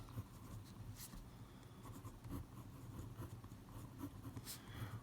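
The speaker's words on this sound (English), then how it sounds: "so here I'm going to sketch the graph" A pen or pencil sketches a logarithmic graph by hand on paper, a soft, steady scratching with short strokes and small taps, quiet and close, with no talking.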